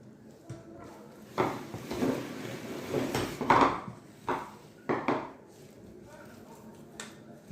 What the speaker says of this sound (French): Et l'autre citron que vous voyez ici, je vais le couper pour pouvoir nettoyer la viande